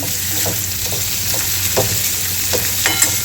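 Wild leafy greens hit a hot pan with a steady, close sizzle and soft stirring scrapes throughout.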